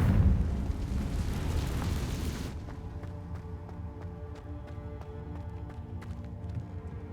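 An explosive Confringo spell blast in Hogwarts Legacy bursts loudly at the start, a rumbling roar that fades after a couple of seconds into a softer crackling game backdrop.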